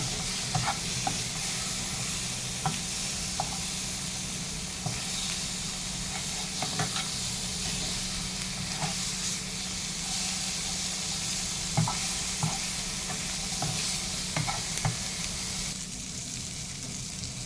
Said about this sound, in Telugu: బ్రెయిన్ వేసేసాను ఇందులో. జస్ట్ ఇలా కలిపేయడం